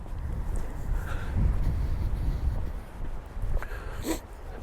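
A dog on a winter walk along the beach at Hengistbury Head gives a few faint whimpers and yips over steady wind and outdoor rumble, with a brief sharper cry near the end.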